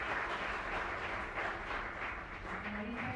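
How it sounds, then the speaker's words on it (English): An audience at a conference session applauds its panelists, a continuous moderate clapping wash with a low rumble beneath and a faint voice near the end. "An applause for you"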